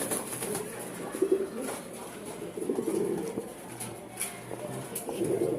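Long-distance racing pigeons, part of a breeding pair setup, coo repeatedly in soft throaty phrases nearby, with a few scattered louder bursts and faint talking in the background.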